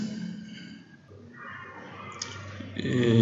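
Computer mouse clicks during a PrestaShop 1.7 installation, a few short sharp clicks near the end over faint room noise, with no talking.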